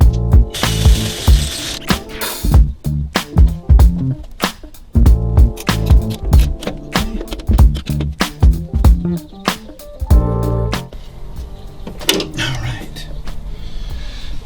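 A hand tap cutting M6 x 1.0 threads into bracket holes on a 1988 Mazda RX-7 FC3S, heard as loud rhythmic ratcheting clicks in quick repeated runs with brief pauses, close up.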